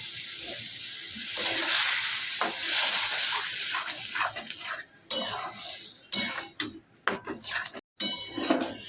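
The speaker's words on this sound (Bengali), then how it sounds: "এর মধ্যে দিয়ে দেবো এবার তরকার ডালটা এটাকে ভালো করে কষাবো" Dal being stirred and fried into spice masala in a pan, with a close hiss and sizzle plus clinking, scraping spoon strokes against the metal, uneven and intermittent toward the end.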